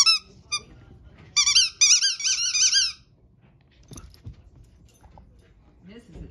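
A dog plays with a squeaky toy ball, setting off a quick pair of sharp squeaks and then a burst of longer, wavering squeals up close. A stretch of quiet rustling and faint thumps follows.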